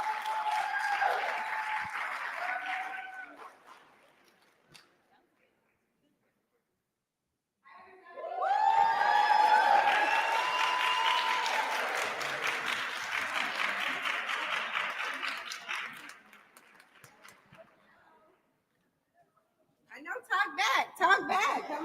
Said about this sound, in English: please give them a round of applause as they come on the stage